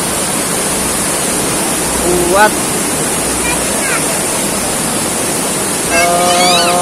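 Waterfall at Jumog on the foot of Mount Lawu pours in a constant loud broadband roar, with brief bird-like chirps and a voice surfacing over it.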